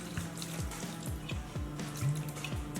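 A big splash of apple cider vinegar pours into a chili and pineapple marinade for al pastor spare ribs, giving a close, continuous watery stream with soft repeated drips and gurgles throughout.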